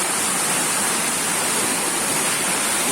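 A waterfall in dense Colombian jungle plunging into a deep pool, a loud, close, unbroken roar of rushing water that fills the whole scene with no voices.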